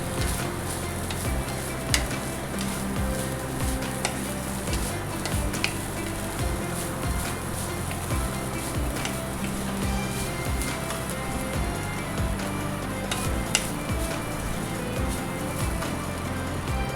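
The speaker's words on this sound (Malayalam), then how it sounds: "ഒക്കെ ഒന്ന് ഇളക്കി നമുക്ക് ഒന്ന് മൂത്ത് വരുന്ന വരെ നമുക്ക് വറുത്തെടുക്കാം കേട്ടോ" Grated coconut roasts in a hot pan as it is stirred, giving a steady soft sizzle with scattered light scrapes and clicks over seventeen seconds, close by and without speech.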